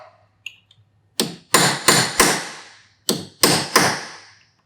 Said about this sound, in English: Get that chisel worked in there and start to spread it out.